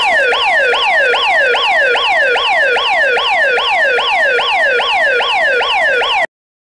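Loud electronic siren sweeps in a fast, steady rhythm, about three wails per second, rising and falling sharply over and over without pause, close and alone with no talk, then cutting off abruptly.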